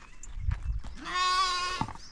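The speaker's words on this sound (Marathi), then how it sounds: "ही बकरी आहेत" Goats on a small family farm bleat in cold weather: short calls come first, then one long, loud, wavering bleat lasts close to a second. The animals are near, and no one speaks.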